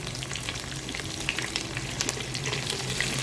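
Cinnamon, black pepper and cloves fry gently in oil for shahi white chicken pulao, giving a steady, close, even sizzle with scattered small crackles and no voices.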